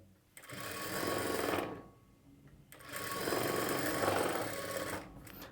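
A sewing machine stitching cloth for a plain blouse runs in two steady, loud whirring bursts separated by a short pause, with no talking.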